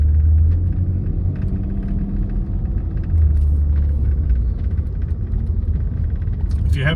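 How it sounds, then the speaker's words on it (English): A 1993 BMW 850Ci engine while driving gives a low, smooth, steady rumble inside the car, loud and continuous, with a brief knock near the end. "the engine's just not working very hard"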